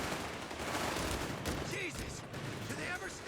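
Gunfire and grenade blasts from a Company of Heroes 3 battle, with riflemen and a heavy machine gun, form a dense, continuous barrage of shots and explosions under the game's background clamour.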